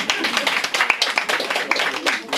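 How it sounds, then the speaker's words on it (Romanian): Hands clapping among a small gathering at a bookshop event, steady clapping from a few people close by, with voices talking and calling out over it throughout. "Aplaudați-o"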